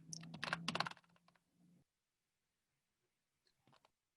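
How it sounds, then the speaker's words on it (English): A computer keyboard typed on in a quick burst of close, crisp key clicks, then silence and a few faint taps near the end. "Typing a quick answer to that in the chat."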